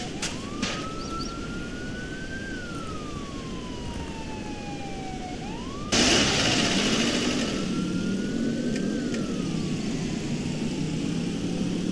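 A vehicle engine drones in a Roblox game with a rising and falling siren-like whine over it; partway through the hum jumps louder and brighter, then settles into a steady, wavering tone.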